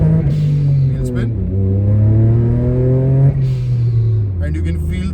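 A modified VW Polo 1.0 TSI with a big turbo and close-ratio gearbox accelerates hard from inside the cabin, engine revs climbing steadily through a quick upshift around mid-clip, loud and continuous.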